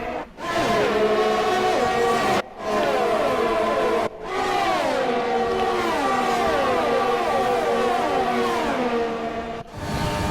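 McLaren Formula 1 car on board in the F1 20 video game at the Brazilian Grand Prix, a loud continuous high engine whine rising and falling through gear changes, with brief cuts at shifts, close and dominant.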